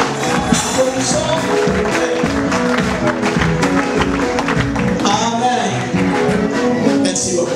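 Applause from a church audience greeting the vice-president of the CCCU Nakivale, a loud, sustained crowd clapping with a busy, continuous texture, mixed with murmured voices.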